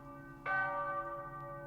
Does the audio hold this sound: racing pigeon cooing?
no